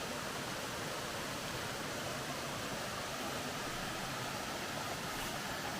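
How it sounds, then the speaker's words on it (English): Nancy Town Falls near Mount Airy, Georgia, pours over rock into a creek, running lower than after heavy rains; an even, unbroken hiss of rushing water continues steadily with no other sounds. "still a beautiful waterfall nonetheless"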